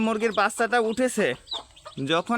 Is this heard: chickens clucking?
yes